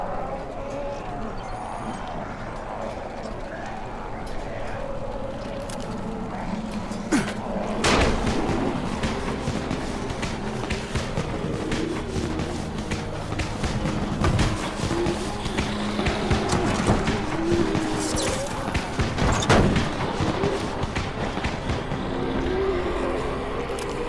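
Firecrackers burst in the zombie video game Dying Light, with scattered sharp pops and cracks over a steady rumble of background game noise, several louder bangs standing out.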